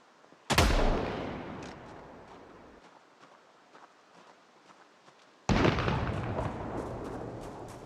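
Two loud .44 Magnum gunshots in the Project Zomboid video game, each a sharp, close blast with a long decaying echo, spaced about five seconds apart with quiet between them.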